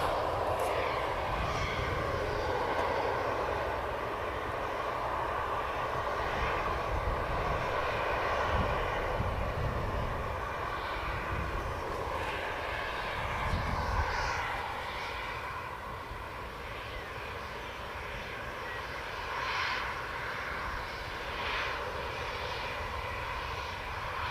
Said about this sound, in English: You probably hear the engines spooling up.